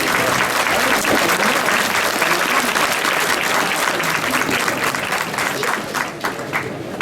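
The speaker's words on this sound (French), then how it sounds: "On peut les applaudir." An audience at a community charity dinner claps for the scouts and serving team in a hall, a dense sustained round of applause that fades slightly toward the end.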